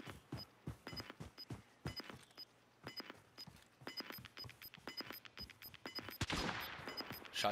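Rapid gunfire from a Call of Duty Warzone match on Caldera rings out in quick strings of sharp shots, some close and some more distant, rising into a denser, noisier stretch near the end.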